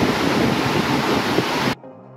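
A dense, steady roar of rushing water falling from waterfalls in Santander, Colombia, fills the clip, then cuts off abruptly near the end, leaving quiet background sound.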